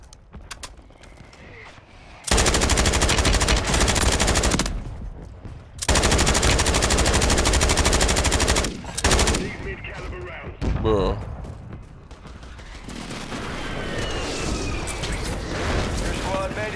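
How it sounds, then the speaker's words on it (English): Mortar strike and gunfire in the Call of Duty video game: long, loud roaring bursts of sustained automatic fire and explosive booms that fill the scene, broken by short gaps, with voices speaking in between. "Mortar strike is inbound."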